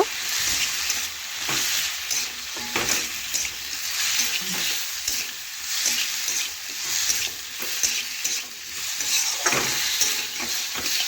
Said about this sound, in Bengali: এখন ভালোভাবে নাড়াচাড়া করে দেখুন একটু ভেজে নেব